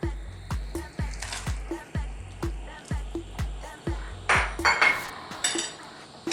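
A spoon scrapes and clinks steadily against a pot as pig's liver is stirred into batchoy, Filipino pork noodle soup, with rhythmic repeated strokes close by and a louder clattering scrape toward the end.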